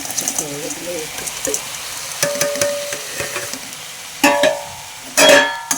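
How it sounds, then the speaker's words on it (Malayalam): Onion, tomato, ginger, garlic, curry leaves and green chilli sautéing in oil for masala crispy corn, a soft sizzle broken by scraping stir strokes and clinks of the pan, with a sharper burst of frying near the end. "ഉള്ളി തക്കാളി ഇഞ്ചി വെളുത്തുള്ളി വെല്ലില പച്ചമുളക് എണ്ണയിൽ വഴറ്റുക"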